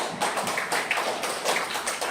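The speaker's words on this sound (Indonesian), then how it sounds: "Tepuk tangan buat kita semua" Classroom applause from children at the end of a lesson, a dense burst of many small hands clapping steadily and fairly close for about two seconds, with no voices over it.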